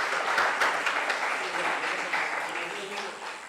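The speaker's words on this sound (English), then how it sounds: "Please welcome him with a huge round of applause." Steady applause from an engineering conference audience welcoming a speaker, a dense wash of clapping that carries on throughout and slowly fades a little toward the end.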